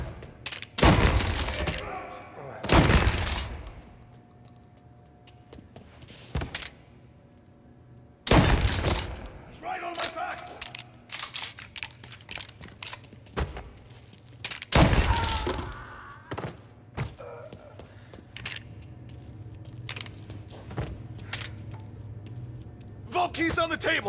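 Gunfire during a bank robbery shootout in Mafia: Definitive Edition, with heavy bursts and loud cracking impacts arriving in irregular clusters, separated by quieter stretches and mixed with shouted voices.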